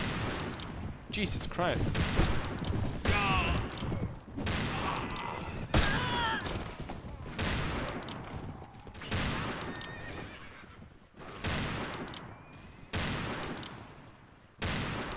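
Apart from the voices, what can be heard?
revolver gunfire in video game Mount & Blade Warband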